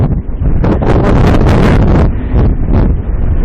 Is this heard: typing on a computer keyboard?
no